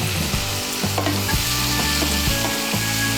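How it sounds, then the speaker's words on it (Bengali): Flat beans and potatoes with spices and a little water and tomato, stirred and fried in a pan, heavy rhythmic scraping strokes over a loud continuous sizzle, nearby and without talk. "মশলাগুলোকে মিশিয়ে নেব, মিশিয়ে নিয়ে একটু কষিয়ে নেব শিম আলুর সঙ্গে"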